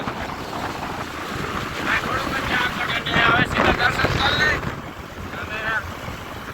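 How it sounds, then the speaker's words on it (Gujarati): Strong wind buffets the microphone in a continuous roaring rumble outdoors on a boat trip over water, while someone talks over it. "પવન આવે ભાઈ"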